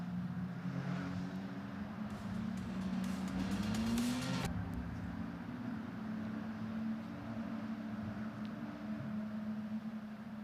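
Ferrari Challenge race cars on track at Oulton Park, heard as a continuous engine drone that swells as the cars pass, then settles into a steady distant hum.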